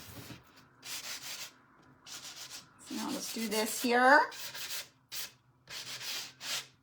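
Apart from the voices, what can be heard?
sanding block rubbing cardboard edges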